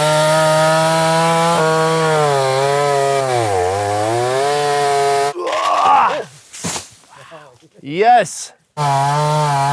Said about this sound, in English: I found this chainsaw.